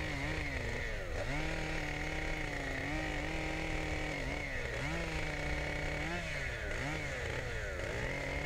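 A chainsaw runs continuously and loudly up close, its pitch dipping and rising as it trims a notch cut in a tree being felled, with no talk.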